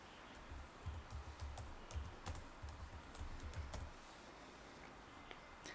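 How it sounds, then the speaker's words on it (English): Quiet keystrokes on a computer keyboard as a phrase is typed into a search box, a quick irregular patter of clicks for a few seconds that then falls silent, with no talk. "Now all I need to do is to type screen sharing into this search box."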